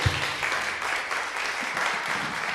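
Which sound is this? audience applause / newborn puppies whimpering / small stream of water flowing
audience applause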